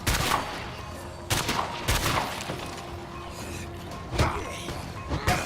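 Gunfire in the video game State of Decay 2: several sharp, loud shots in irregular bursts over a muffled background, with a few crashing impacts between them.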